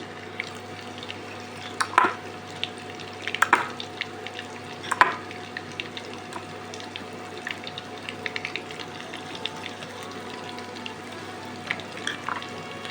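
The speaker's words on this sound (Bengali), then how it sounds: "এবার একটু আঁচটাকে বাড়িয়ে দিয়ে ভাজবেন।" Snacks frying in hot oil over raised heat give a steady low crackle, with a few sharper scrapes or clinks of a spoon around two, three and a half and five seconds; no one speaks.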